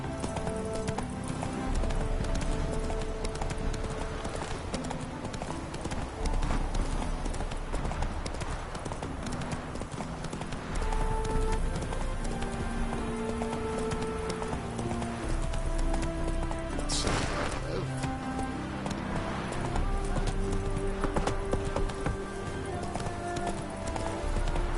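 A horse gallops in The Witcher 3 video game, its rapid rhythmic hoofbeats and an occasional whinny running continuously over background game music.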